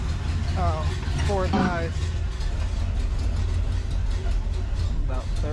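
A Big Block Chevy engine being tested for a 1972 C10 idles steadily with a low, continuous rumble throughout, while someone talks briefly over it.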